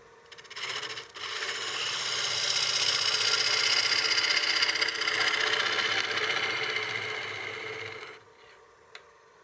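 A wood lathe spinning a platter at about 900 RPM gives a steady, close whirring hum with a rough, scraping hiss of a tool cutting the wood, building up and holding for several seconds before cutting off.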